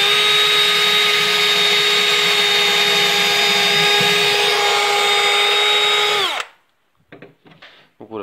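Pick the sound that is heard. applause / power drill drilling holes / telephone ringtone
power drill drilling holes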